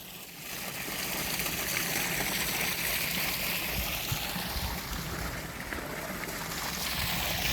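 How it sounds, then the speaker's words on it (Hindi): Tea utensils and a tin being rinsed and swished in water outdoors beside a farm field, giving a steady, close trickling and sloshing wash of water that runs evenly for several seconds with no talk. "अब ये चाय के बर्तन जो है डिब्बे में भी यहाँ खंगाल देता हूँ इसमें"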